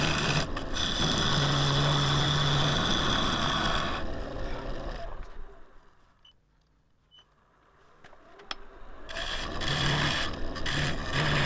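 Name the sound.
wood lathe turning a Splitsuarina wood bowl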